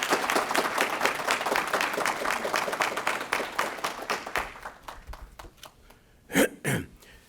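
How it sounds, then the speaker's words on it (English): Audience applause at a college partnership signing ceremony: a steady burst of clapping that fades out, then a couple of short, loud knocks or bumps near the end. "a round of applause, please."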